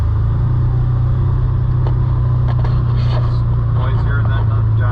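A Can-Am Defender Limited cab side-by-side drives along with a steady, low engine rumble heard from inside the cab, while people talk over it.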